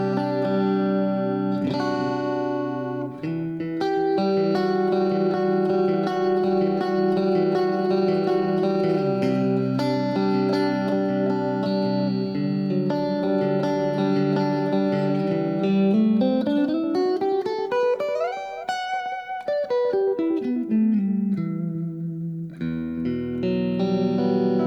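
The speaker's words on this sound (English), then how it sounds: "Definitely sounds like a Stratocaster." A Fender Player Stratocaster electric guitar plays clean in the fourth pickup position, with ringing chords and single notes, including a sliding run up and back down, loud and close with no talking.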